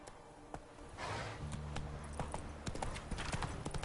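Horse hooves clopping in The Witcher 3 on PS5, a steady close rhythm of hoofbeats over soft game background, with a low voice briefly under it.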